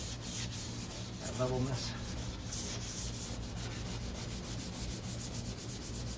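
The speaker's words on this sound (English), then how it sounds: "So this one I'm going to try and sand down 400 just to kind of get that" Hand sanding a 1969 C3 Corvette deck lid with 400 grit sandpaper, quiet repeated rubbing strokes in a steady back-and-forth rhythm, close by, with a brief spoken word.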